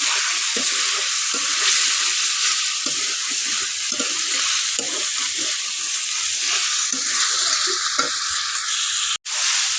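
Tomatoes dropped into frying cauliflower give a loud, steady sizzle close by, broken by repeated scraping stirs of a spoon through the pan; no one talks, and a brief dropout comes near the end.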